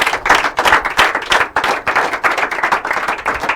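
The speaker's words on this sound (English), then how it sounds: "we need a better, fat, chubby, more robust round of applause" Audience at a quiz and debate competition claps steadily, a dense round of applause with rhythmic surges that stays loud throughout with no voices on top.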